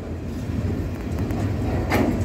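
A freight train hauled by an EMD GT26 locomotive rumbles past the Bluescope steelworks yard at Hastings steadily with a low, continuous roar and faint rail clatter, no voices.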